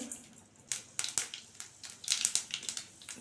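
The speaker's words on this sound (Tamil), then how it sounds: "கடுகு நல்லா வெடிக்கணும்." Mustard seeds splutter and pop in hot sesame oil in a kadai, tempered with fenugreek, pepper, cumin and dried chillies for vatha kuzhambu, giving a quick run of sharp crackles close by, with no talk.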